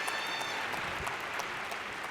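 Audience applause at a large conference closing session, a soft, continuous spread of clapping heard at a distance with a few sharper claps poking through.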